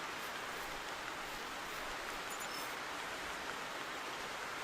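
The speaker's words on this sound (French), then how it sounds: "je crois qu'il fait que pleuvoir." Steady rain falls in the hunting video game The Hunter, an even hiss of dense drops that holds unchanged from start to end, soft and fairly distant with no voices.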